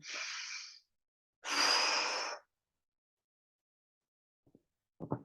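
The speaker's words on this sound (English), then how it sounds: "A deep breath looks like." A person takes two long, deep breaths, a breathy hiss drawing in and then pushing out, close and loud, followed by silence and a couple of small faint sounds.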